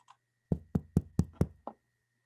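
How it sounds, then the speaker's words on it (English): Six heavy knocks on a door ring out as a stage sound effect in a Macbeth performance, evenly spaced and loud in otherwise quiet surroundings. "Whence is that knocking?"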